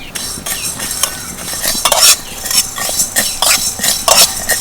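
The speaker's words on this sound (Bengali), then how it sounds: "এবার এই শুকনো কড়াইয়ের মধ্যে দিয়ে দেবো গোটা ধনে, গোটা মৌরি, গোটা জিরে।" Whole coriander, fennel and cumin seeds dry-roasting in a dry wok, stirred in repeated loud scraping and rattling strokes at a fairly even rhythm, close up with no voices.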